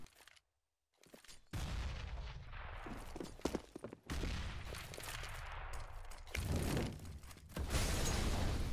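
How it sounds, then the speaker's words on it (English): A grenade blast in the competitive shooter Overwatch, set among several loud, dense bursts of explosive and gunfire-like noise that go on without letting up, with short quiet gaps between them. "check out this nade by Shroud"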